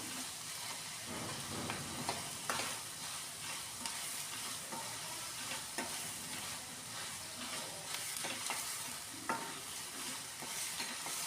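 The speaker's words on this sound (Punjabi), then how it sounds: "ਤੇ ਹੁਣ ਮੈਂ ਪਾ ਦਿਆ ਟਮਾਟਰ ਤੇ ਹਰੀਆਂ ਮਿਰਚਾਂ ਜਿਹੜੀਆਂ ਕੱਟ ਕੇ ਰੱਖੀਆਂ ਸੀ ਇਹਨਾਂ ਨੂੰ ਆਪਾਂ ਚੰਗੀ ਤਰ੍ਹਾਂ ਭੁੰਨ ਲਾਂਗੇ" Chopped tomatoes and green chillies stir-frying in a pan for a milk and onion bhurji, a continuous hiss of sizzling broken by repeated spatula scrapes at an even pace, close by and without talk.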